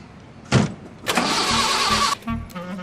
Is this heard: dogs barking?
no